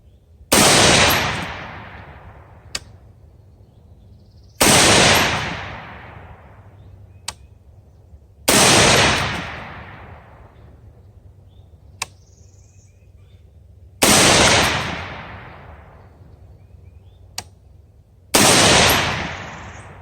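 An 18-inch Palmetto State Armory 6.5 Grendel rifle firing Hornady Black ammunition outdoors: five loud, evenly spaced shots a few seconds apart, each trailing off in a long rumbling echo, with faint clicks between shots.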